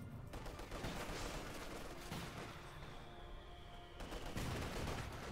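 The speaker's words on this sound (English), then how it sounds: "Guards bring up the DP light machine guns" DP light machine guns in Company of Heroes 2 firing in dense, continuous bursts, mixed with other battlefield gunfire throughout, steady and moderately loud.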